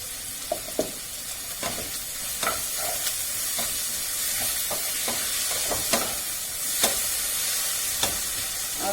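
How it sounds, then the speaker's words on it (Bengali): Spice masala frying with a little salt in a pan for chicken bhuna, a steady sizzle broken by repeated scraping stirs and occasional sharp clinks of the spoon, close and without talk. "এই মশলা কষানোর জন্যই নুন একটুখানি দিচ্ছি"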